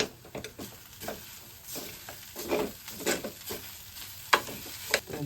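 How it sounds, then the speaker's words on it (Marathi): Maggi noodles stirred in a hot pan, soft sizzling under repeated scraping strokes of the spoon, with sharper clinks against the pan near the end. "एकदा वापस पूर्ण मिक्स करू."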